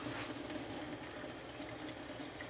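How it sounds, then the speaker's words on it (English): Water runs steadily from a hose through a tube extension, rinsing film in a makeshift darkroom film washer. The flow is an even, continuous hiss and gurgle at moderate level, with no talk. "We're now rinsing. We've got our little tube extension here, the hose feeding into it."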